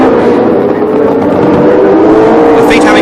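1976 Formula One cars race wheel-to-wheel at the Long Beach Grand Prix, a loud sustained engine drone close by, with a commentator talking over it.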